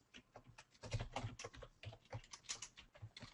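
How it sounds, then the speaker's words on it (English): Rapid irregular clicks of typing on a computer keyboard, close and fairly quiet, keys striking in quick uneven bursts with no voices. "is that you typing?"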